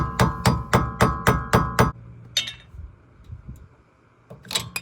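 A flathead screwdriver works under the rear wheel hub dust cap of a 2003-2007 Honda Accord: seven quick, sharp metallic taps in an even rhythm, then quieter scraping and a final clink.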